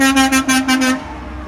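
Car horns honk in a quick series of short toots, loud and close, amid passing traffic at a roadside gathering in Michigan.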